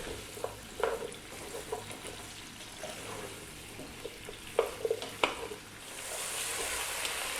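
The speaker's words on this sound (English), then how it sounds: "we're going to throw this around in the pan for about 4 to 5 minutes just to kind of get it on its way" Vegetables for a carrot ginger soup frying in a pan over medium heat, a steady soft sizzle broken by scattered clacks and scrapes as they are tossed, with a faint hiss of water near the end.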